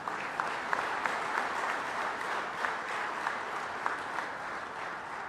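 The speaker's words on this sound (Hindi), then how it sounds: "आज अपने खेल मंत्री का तालियां बजा के स्वागत कीजिए।" An audience applauds steadily to welcome the sports minister at a sports honours ceremony in Bhopal, a dense, even wash of clapping with no voices heard.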